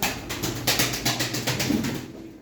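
A racing pigeon, a male homing bird, coos in a repeated rhythmic pattern close by, with soft wing flaps mixed in, no voices.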